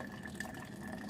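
Water trickles steadily through a Sawyer Squeeze filter, a soft continuous flow with light splashing heard up close and alone.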